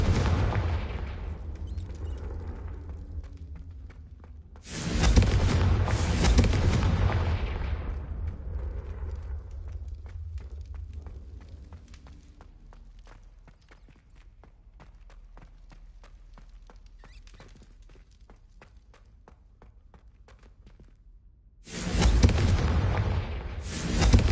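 Confringo fire-blast spells explode in the Hogwarts Legacy video game, two loud booming bursts with long roaring decays, separated by a quieter stretch of rumbling crackle and ambience.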